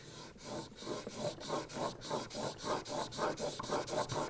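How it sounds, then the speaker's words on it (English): A chisel bevel is honed on a 3000 grit sharpening stone, giving a soft, rhythmic rasping stroke repeated about a dozen times at an even pace, close and quiet. "I'm going to hit my main bevel with the 3000 stone anyway"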